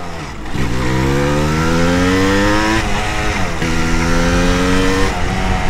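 A Yamaha DT 200 motorcycle revs loudly and close while being ridden, its engine note climbing steadily, then dropping briefly at each gear change before rising again, with no talk.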